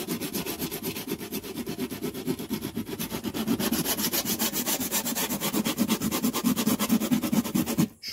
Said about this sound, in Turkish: Şöyle bir takoz zımparam var.